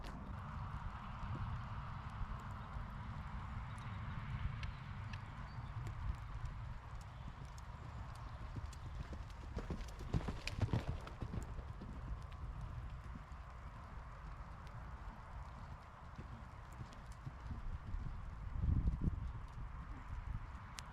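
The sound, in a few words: horse hooves cantering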